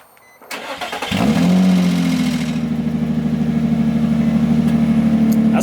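A Nissan 350Z starts up close by: a short starter crank, then the engine catches with a bark and settles into a steady, throaty idle with a rhythmic low pulse, no revving.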